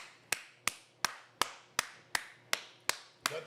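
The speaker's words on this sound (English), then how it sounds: "Come on, give yourself a round of applause, man." Sharp, evenly spaced claps ring out about nine times in a steady beat, close and crisp, as a round of applause at a No Jumper gathering, with no talking over them.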